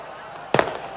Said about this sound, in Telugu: ఈ టపాకాయలు కాల్చేటోడు మనోడేనా మంచోడవాడు?